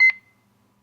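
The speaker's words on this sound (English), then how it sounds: "it will be indicated by a beeping sound" A short electronic beep sounds once from a bird call book player, a brief clear tone that cuts off and leaves silence.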